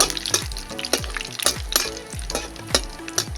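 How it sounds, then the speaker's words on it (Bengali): Black cumin seeds fry in hot oil, crackling and spitting in a busy, uneven patter with bursts of louder pops, close and loud with no talking. "আমি কালো জিরেটা আগে একটু ভালো করে ভেজে নেব।"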